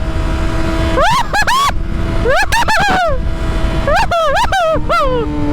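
A Yamaha R6 sport bike revs hard and close during a test ride, its engine whining up in three sharp bursts, each climbing in pitch and dropping back, with road and wind noise throughout.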